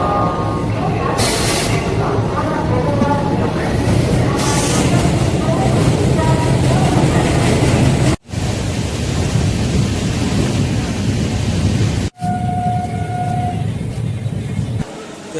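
Riding the Purba Express train from Howrah toward Bardhaman: loud, continuous rumbling roar of a moving train cabin with rushing noise, broken by two brief cuts, no clear talk.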